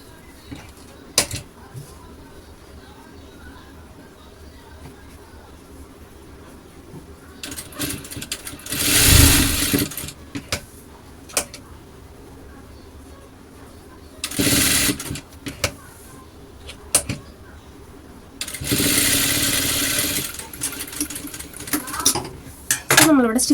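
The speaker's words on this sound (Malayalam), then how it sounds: "ഇതൊന്ന് മൊത്തത്തിൽ സ്റ്റിച്ച് ചെയ്തെടുക്കുന്നുണ്ട്" A sewing machine stitches cut fabric scraps, running in several loud whirring bursts of a few seconds each, with clicks and handling noises between them and no talk.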